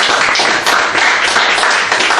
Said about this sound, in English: So, ladies and gentlemen, a round of applause for Andrew Johnson.